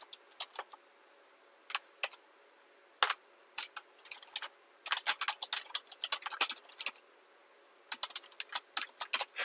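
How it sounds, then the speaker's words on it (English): Someone types on a computer keyboard in a quiet room, producing close, crisp clicks in uneven bursts, sparse at first and then rapid runs of keystrokes, with no talking. "I'm like typing so poorly right now"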